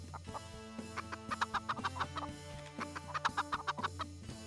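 Chickens in the video game 7 Days To Die Undead Legacy cluck in short, repeated bursts over a soft background drone, close and clear with no talking.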